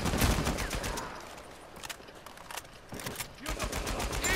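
Gunfire in the Uncharted 4 multiplayer game: dense bursts of rapid automatic shots and volleys, loud and close, pausing briefly before another flurry of shots.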